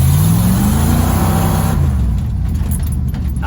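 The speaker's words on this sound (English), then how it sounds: "Let's go give it a little test drive." A 1980 Ford F-150 truck with a 351W V8 and a newly installed carburetor runs loud and close, its engine note sweeping up and then settling into a steady roar. No one speaks.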